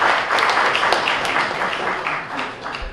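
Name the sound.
applause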